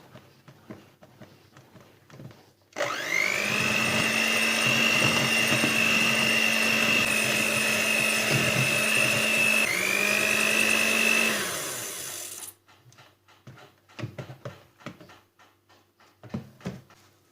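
A loud, steady electric mixer whirs for about ten seconds while beating waffle batter of milk, flour, baking powder and salt, dips briefly in pitch, then cuts off, leaving faint kitchen clatter.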